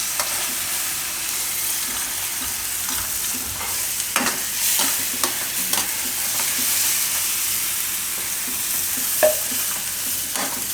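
Tomato puree fries with onion, oil and pav bhaji masala over a full flame, a continuous loud sizzle with spatula stirring scrapes and occasional thumps, no voices.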